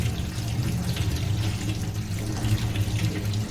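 Kidney beans (rajma) being rinsed under a running kitchen tap, a steady close splash and gurgle of water into a sink continuing without pause.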